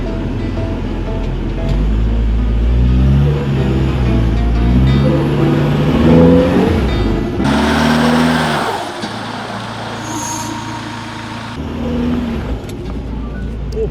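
Solid-axle Toyota Prado crawling up a steep hill off-road, its engine grinding at low revs with rising and falling strain, loud and close, with a brief burst of wind or scraping noise midway.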